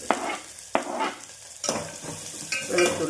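Garlic frying in a pan for egg curry, a close steady sizzle broken by a few sharp stirring scrapes and clatters, with no voices.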